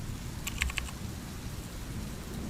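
Steady rain hisses evenly over a low thunder rumble, with a brief cluster of light taps near the start and no voices.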